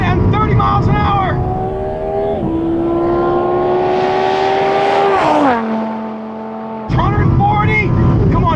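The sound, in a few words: Lamborghini Huracan driving at high speed on dirt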